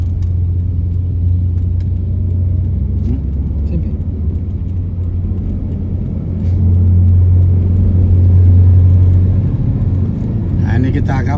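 A car is driven quickly through the city streets of Makassar, its steady low engine rumble and road noise swelling slightly midway, with no talk over it.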